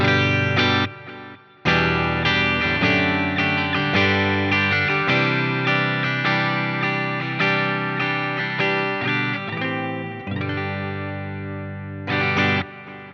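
Clean electric guitar chords through a clean amp plugin ring out with rich sustain and a slight shimmering effect, a brief gap near the start, then steady strumming fading toward the end.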